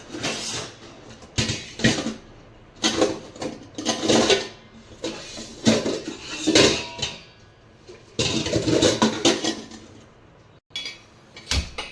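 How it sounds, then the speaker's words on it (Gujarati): A metal cooking pot is set down on a kitchen stove to prepare tempering for dal, with repeated clanks and scrapes of cookware, short bursts separated by pauses, close and fairly loud. "હવે હું એક તપેલું મૂકીશ. તપેલાની અંદર વઘાર કરીશ."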